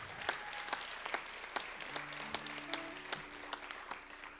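Applause from a concert audience at the Grand, fairly faint and distant, a steady patter of claps with a few sharper individual hits and some tonal background hum.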